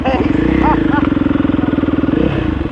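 Motocross dirt bikes racing, a loud close engine buzz pulsing in rapid even bursts as the bikes rev, with a voice talking over it.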